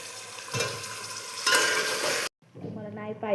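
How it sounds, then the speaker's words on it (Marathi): Potatoes frying in hot oil give a loud, steady sizzle with a sharper surge midway, then cut off abruptly and return as a quieter hiss with faint tonal sounds behind it. "मी बटाटे टाकत आहे याच्यामध्ये तळण्यासाठी"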